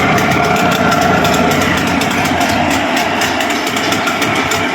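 Engine of a Mariner 40 boat running steadily, a loud, close, constant mechanical drone with a fine rapid rattle and no variation in pace.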